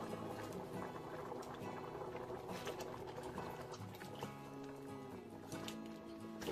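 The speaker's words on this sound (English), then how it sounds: "Now I'm gonna add all of my yam, banana, and potato and edo" Jamaican goat meat soup, mannish water, bubbles in a pot as yam, green banana, potato and edo go in; a steady, dense boiling churn runs throughout with no talk.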